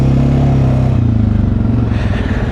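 An off-road vehicle's engine idles loudly and close, then its steady low rumble shifts and settles as it winds down on an Arctic trail ride, with no talk over it.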